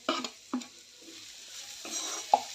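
Vegetable curry of padwal (snake gourd) with ginger, garlic and kasuri methi being mixed in a pan, soft sizzling under a few distinct spoon scrapes and stirring knocks, close and fairly quiet.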